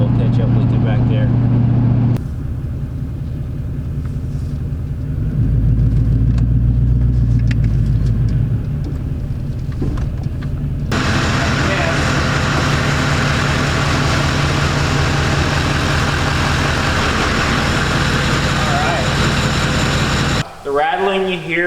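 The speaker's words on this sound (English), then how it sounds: "Rattling you hear, there's a little rattle. That is the triple disc torque converter." Diesel engine of an LML Duramax pickup running with a triple disc torque converter, a low steady rumble carrying a faint light rattle, with a person talking over it for much of the time.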